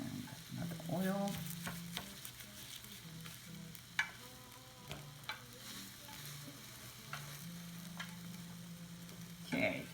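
Beaten egg for tamagoyaki fries in an oiled pan with a soft, steady sizzle, broken by faint scraping and stirring sounds at close range.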